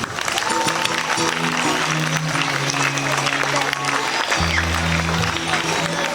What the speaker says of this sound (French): Nous allons applaudir pour toutes ces personnes.